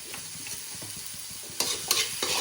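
Ginger, garlic, coriander, cumin and garam masala spices sizzle and fry in a pan while being stirred, a steady close crackle with louder scraping stirs near the end.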